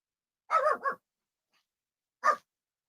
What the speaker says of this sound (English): Sorry, ignore my dog, just barking.